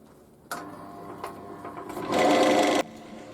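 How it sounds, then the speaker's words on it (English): A roughing gouge cuts resin on a wood lathe, heard as a steady humming whir. It starts with a sharp onset and rises to a louder, denser cutting burst before stopping abruptly. "it seems to be cutting okay with the roughing gouge"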